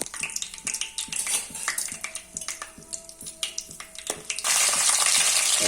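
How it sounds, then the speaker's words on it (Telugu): Whole spices and a bay leaf frying in hot oil in a pan, giving a steady crackling sizzle with clicks of stirring, growing into a loud continuous hiss near the end. "దాంట్లో బిర్యానీ ఆకుతో పాటు అన్ని మసాలా దినుసులు వేసుకున్నామండి. అవి కొంచెం ఫ్రై అవుతుంటే"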